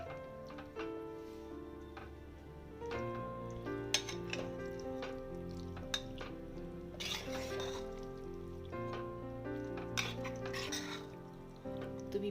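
Bhogi vegetable curry of jujube berries, carrots and kidney beans is stirred gently in a pot, giving soft, scattered clinks and scrapes at a modest level beneath steady tonal background music.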